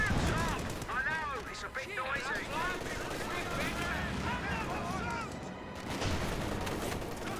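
Dense machine gun fire from an MG34 in the World War II strategy game Company of Heroes 2, sustained bursts mixed with other battlefield gunfire and explosions throughout a busy combat soundscape.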